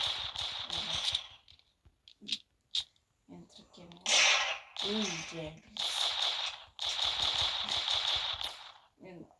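Rapid bursts of gunfire ring out in the Roblox Brookhaven game, coming in clustered volleys separated by short pauses, with voices talking in between.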